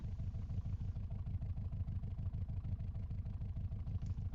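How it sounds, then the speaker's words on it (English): Boxer engine idling steadily in a drift car, a low, lumpy, burbling rumble with an even rhythmic pulse, continuous and moderately quiet, with no voices over it. "I don't like the sound of boxer engines"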